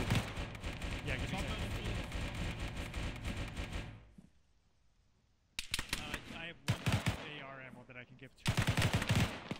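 Gunfire from a multiplayer shooter video game comes in loud, dense bursts for about four seconds. After a near-silent gap, more sharp bursts of shots break in. Faint voices can be heard underneath.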